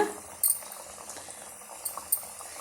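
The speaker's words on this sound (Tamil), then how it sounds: "இப்போ ஒவ்வொரு பீஸுகளை நம்ம தனித்தனியாக நீங்கள் எடுத்து எண்ணெயில் போட்டு விட்டுருங்க." Biscuit dough pieces frying in hot oil, a steady soft bubbling and sizzling hiss with a few brief sharper pops and crackles.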